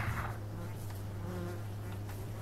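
Insect buzzing in the horror video game Black Butterfly, a steady droning hum of bugs holding throughout with no speech over it.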